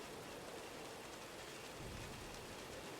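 Steady rain falls on a workplace roof, a dense, even hiss across the whole stretch with no voices.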